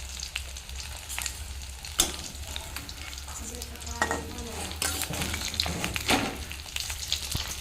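Katla fish frying in a pan gives a steady sizzle, with occasional clatter and sharper crackles bursting through at intervals, close by.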